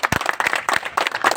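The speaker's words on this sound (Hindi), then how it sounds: "ताली जोरदार बजाइए" Brief burst of hand clapping from a gathered crowd at an OBC association branch formation event at a railway station, close and lively, lasting only about a second.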